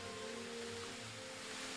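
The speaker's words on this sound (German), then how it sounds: "So, okay, hier ist ein Wasserfall" Steady rushing water from a waterfall in the PC video game Heidi, a constant broadband wash with a faint tonal hum beneath, quiet and continuous with no talk.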